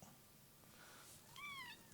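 A cat gives a single brief, faint meow over a low background hiss.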